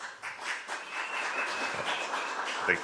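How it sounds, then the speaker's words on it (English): An audience applauds steadily throughout, a dense wash of clapping from a crowd, fairly loud and continuous. "They clap to start."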